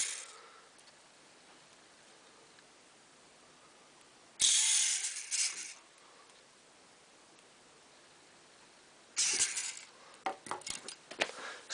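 A small RC model tractor (Massey 8680 on a Siku Control 32 base) runs its drive motor and wheels in a test: two short bursts of whirring motor and gear noise, the second ending in rapid clicking and rattling.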